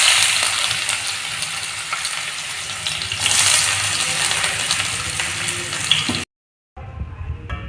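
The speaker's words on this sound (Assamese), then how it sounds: "তেলখিনি গৰম হৈছে, এতিয়া ইয়াত পেষ্ট আৰু কেঁচা জলকীয়া সানি দি দিম।" Spice paste and raw green chillies frying in hot oil for an Assamese mutton curry, a loud dense sizzle that surges midway, stops abruptly, then returns quieter.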